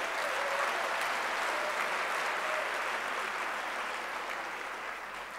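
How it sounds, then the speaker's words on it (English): Sustained applause from a lecture audience fills the whole stretch, a steady, dense wash of many hands clapping at an even loudness, with no voices above it. "we must applaud Dr. Phumile Mbamungula"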